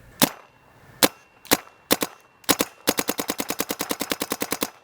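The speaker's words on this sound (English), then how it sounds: "And now this gun shoots absolutely amazingly." A Proto PM6 paintball marker fires sharp, close, loud pops. A few single shots come first, spaced out, then a fast, even rapid-fire string runs to the end.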